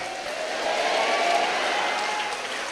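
Church congregation clapping hands together in praise, a steady wash of applause that swells in the middle and holds through the short moment, with no voices standing out.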